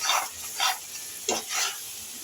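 Tamarind paste for puliyodharai sizzling in hot oil in a pan, heard as soft bursts of crackling hiss that swell and fade in an uneven rhythm, close and fairly quiet.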